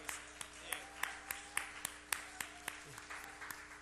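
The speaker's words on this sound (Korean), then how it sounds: "박수로 환영하겠습니다." A church youth-service congregation claps to welcome a deacon, a steady rhythmic round of applause with evenly spaced sharp claps in a reverberant hall, a faint voice occasionally audible beneath.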